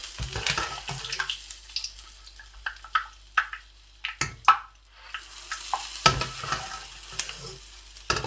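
Fried dahi phulkian dumplings are dropped into water in a kitchen, giving a scatter of splashes, plops and clinks against a soft watery wash.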